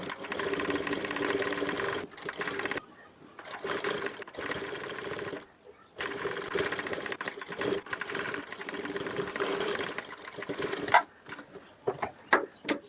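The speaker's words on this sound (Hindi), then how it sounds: "और हमने ये जो पहले सिलाई लगाई थी इसी सिलाई के ऊपर हमने ये सिलाई लगाना है" A sewing machine stitching piping cord onto fabric: steady, fast mechanical whirring runs in long bursts, with brief pauses between runs and a few short stitches near the end, close and clear.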